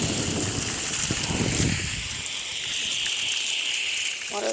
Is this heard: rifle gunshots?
no